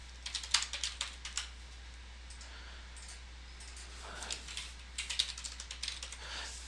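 URLs typed on a computer keyboard in quick bursts of close, crisp key clicks, with a pause in the middle before a second run of faster keystrokes.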